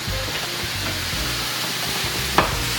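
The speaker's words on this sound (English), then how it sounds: "We're gonna add our onions." Onions hit a hot frying pan while cooking lasagna sauce, giving a steady, close sizzle and hiss with a brief clatter near the end and no talking.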